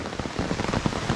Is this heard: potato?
no